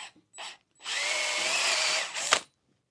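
A power drill drives screws into a homemade wooden weather station frame, with two short bursts of whirring followed by one sustained, close and loud run of about a second and a half that ends abruptly.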